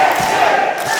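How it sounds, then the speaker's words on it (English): A home-town crowd at a live Mayhem Pro wrestling show in Melbourne chants for the wrestler JXT. The sound is a dense, loud and steady roar of many voices that fills the room, with no single voice standing out. "Listen to the chanting."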